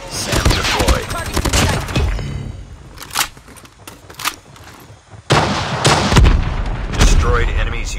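Automated SAM turret in Call of Duty Mobile firing at an enemy UAV during a 5v5 match: a loud burst of sharp, rapid blasts at the start, then scattered single shots, and another heavy run of fire near the end, with game voice callouts in between.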